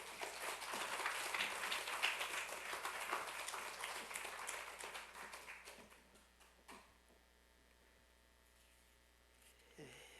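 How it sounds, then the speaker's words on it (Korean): A church congregation applauds steadily for several seconds, the clapping dense and loud before fading out, leaving a quiet room with a few faint noises. "나오실 때 박수로 환영해 주시겠습니다"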